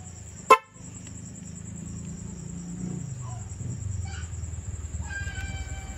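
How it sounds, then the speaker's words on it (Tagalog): A single short, sharp car horn honk sounds near the start, followed by a low engine hum and faint clicks. "Malakas pala yung ating busina."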